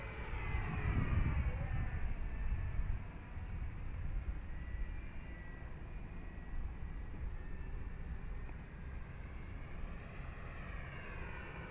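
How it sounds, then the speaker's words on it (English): BlitzRCworks T28 RC model airplane, 1.1 m span, on a stock 10x6 propeller, flying overhead on a windy day; a continuous whining engine drone rises and falls as it passes, with wind noise underneath. "Love flying this plane, but time remaining 2 minutes."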